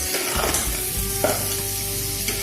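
Crabs fry in a hot pan and are stirred now and then, giving a loud, close, continuous sizzle broken by a few scraping stirs.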